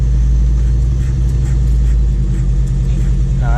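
A car engine revved hard for a burnout, a loud low rumbling drone held steady at high revs, close by.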